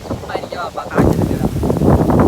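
Strong wind and rain batter a microphone on a rainy ride outdoors: loud rumbling buffets that jump up after the first second and stay heavy, with a voice partly buried beneath.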